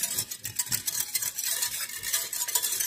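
Sugar stirred in a pot to melt it, a spoon scraping and swishing in quick, regular strokes, close and fairly loud, with a soft sizzling hiss underneath and no talk.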